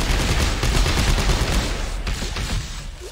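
Dense, continuous gunfire from the video game Dead Space 3, a loud, close stream of rapid shots running throughout with no pauses.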